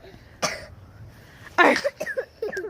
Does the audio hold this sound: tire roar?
no